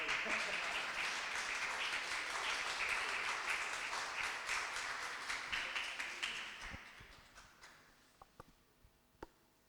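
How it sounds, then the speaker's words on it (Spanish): A church congregation applauds during a Spanish-language sermon, a dense steady wash of clapping that thins out after about six seconds into a few scattered, isolated claps near the end. "Sigan aplaudiendo si quieren."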